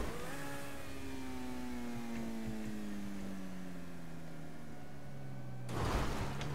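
Car in the game GTA V Online pulling away, a steady engine hum whose pitch slowly sinks as it drives on, faint and even, ending with a short burst of noise.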